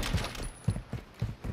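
Bursts of video game gunfire from a Modern Warfare-style shooter thud in a quick rhythmic run of muffled, low shots, moderately loud with no voices.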